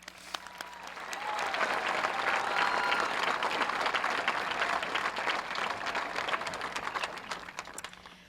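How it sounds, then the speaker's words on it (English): An audience at a high school graduation ceremony claps steadily for several seconds, swelling after the first second and then slowly thinning toward the end. "let's give a big round of applause to everyone"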